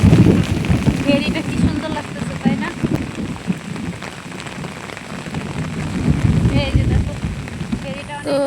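Rain pours steadily outdoors in a village, making a dense, close patter on surfaces. Voices can be heard beneath it.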